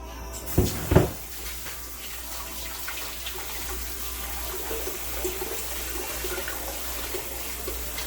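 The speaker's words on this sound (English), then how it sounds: "Okay, so I've got my oats here. I'm just going to give them a rinse." Oats rinsed under a running tap: two sharp knocks at the start, then a steady stream of water hissing and splashing in a sink, fairly close, with no talking.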